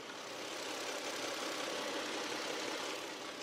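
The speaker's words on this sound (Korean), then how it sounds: "바로 가까이서 엔진 사운드 담아드리도록 하겠습니다" Steady, smooth idle of a Hyundai Grandeur HG V6 LPG car engine recorded up close with the hood open, an even broadband hum and whir with no speech and no change in level.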